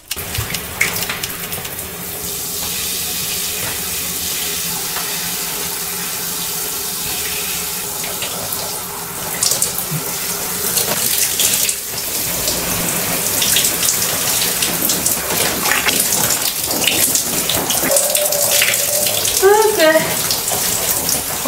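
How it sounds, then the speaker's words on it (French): Tap water runs steadily while rinsing hair at home, a continuous close splashing hiss that grows louder partway through, with brief faint talking. "Quand je veux rincer mes cheveux, je commence toujours par l'avant."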